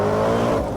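A powerful sports car engine roars steadily as it accelerates, loud and close, with a deep rumbling tone over a brief moment.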